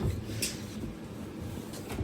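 A drawer in a themed hotel room at Hotel Cheyenne, Disneyland Paris, slides open with a soft, short wooden scrape and bump, close by and quiet against faint room noise.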